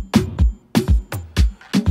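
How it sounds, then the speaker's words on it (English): A punchy drum pattern repeats: deep kick hits alternating with sharp snare or clap strikes in a steady, dry rhythm, no voices. "this is how the drums actually sound like"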